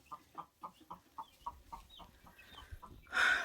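Hens in a chicken coop give a steady run of about a dozen soft, evenly spaced clucks close by, then a brief louder squawk at the end, with no talking over them.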